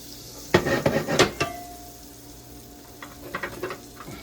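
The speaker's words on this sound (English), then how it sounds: "So we're going to put a little butter in our pan." Butter and vegetables hit a hot pan: a loud close clatter and burst of sizzle, then a quieter frying hiss with a few more knocks of utensils against the pan.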